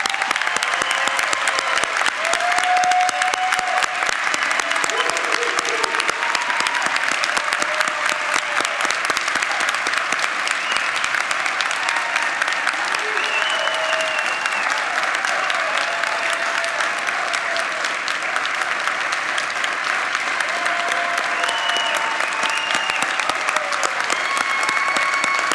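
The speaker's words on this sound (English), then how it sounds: "one more round of applause for all of them" A crowd applauds nursing graduates at a school of nursing pinning ceremony, a long, steady roar of clapping with occasional cheers and whoops on top, sustained at full strength for the whole stretch.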